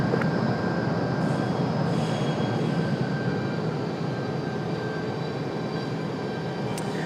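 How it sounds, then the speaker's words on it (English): An Aer Lingus airliner pushing back at Raleigh-Durham International Airport makes a loud, constant engine roar with a thin high whine on top, steady throughout. "Again, Aer Lingus pushing back,"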